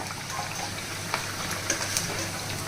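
Chili bajji fritters frying in hot oil, giving a steady, soft sizzle with faint crackles and occasional small pops, heard alone without voices.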